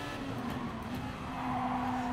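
Race cars in the Gran Turismo Sport video game give a steady engine drone with a sustained tonal whine that shifts pitch slightly partway through, moderately loud with no talk.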